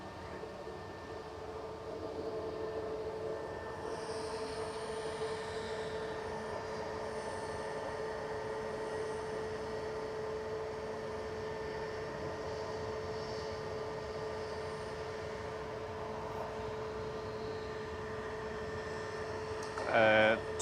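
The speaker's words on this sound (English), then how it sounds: "Landing up in front of us is one of EasyJet's A321 Neos." EasyJet Airbus A321neo jet airliner landing at Manchester Airport, a steady distant engine roar with a faint whine, with talk over it.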